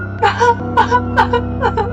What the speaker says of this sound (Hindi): तो कभी रोने की भयानक आवाजें।